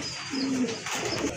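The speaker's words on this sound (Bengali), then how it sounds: "এটা হচ্ছে অরিজিনালি আপনার অথেন্টিক দেশি গোল্লা কবুতর" A pair of native Gola pigeons coo softly in a couple of low, drawn-out notes close by, with faint background noise and no speech.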